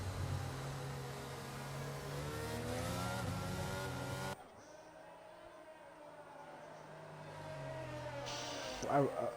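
An F1 22 race car engine in the Canada round of a video game race whines with rising pitch as it accelerates, then gives way to a quieter, steadier engine tone.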